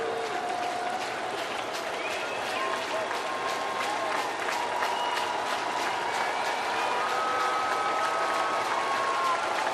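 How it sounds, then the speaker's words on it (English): Crowd at a Padres vs Cardinals baseball game cheers and claps in the stadium, a broad sustained roar with whistles and shouts, a commentator talking over it. "Crowd on their feet."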